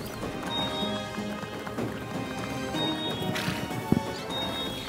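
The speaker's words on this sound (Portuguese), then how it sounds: "Que cavalo fofo e lindo" Horse hooves clip-clop at a steady run in the Star Stable Online horse-riding game, mixed with dense game music and effects, with a sharp knock near the end.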